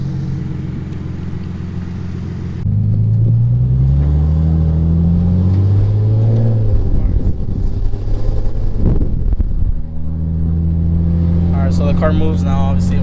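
Nissan 350Z with an automatic transmission and a newly installed driveshaft, engine idling and then rising and falling in pitch as it pulls away and shifts, with wind buffeting the microphone and a few chirps near the end.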